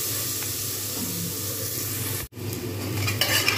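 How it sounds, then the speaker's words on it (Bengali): Onions frying in hot oil in a pan with a steady sizzle, a spatula stirring and scraping against the metal, a brief dropout midway, then clinking utensil sounds near the end. "এবার এর মধ্যে আমি পেঁয়াজগুলো দিয়ে দেবো।"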